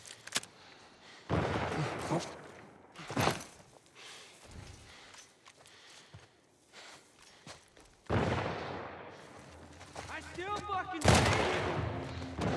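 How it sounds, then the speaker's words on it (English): Gunfire in The Last of Us Part 1 on PlayStation 5, several loud bursts of shots separated by quieter stretches, with a voice talking between them. "I just burned through like all of my ammo for this damn gun"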